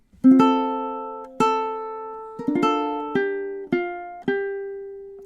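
Ukulele picking the third measure of The Parting Glass, a Celtic tune, as a run of six plucked notes and small chord clusters, each ringing and decaying, played solo and close.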